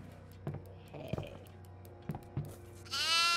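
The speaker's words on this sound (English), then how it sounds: "There's a goat." A goat bleats in the horror video game Devour, a wavering cry rising at the end over sparse in-game knocks and thumps, fairly faint and without talk over it.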